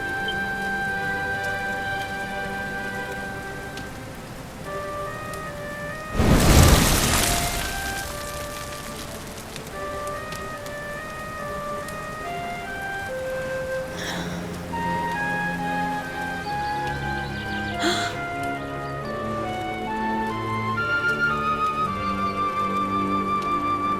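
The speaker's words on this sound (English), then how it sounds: "Looks like the rain's dying down." Rain falls in the role-playing game Dragon Quest XI, heard as a soft, steady patter under sustained, gentle music, with a sudden loud whooshing burst partway through.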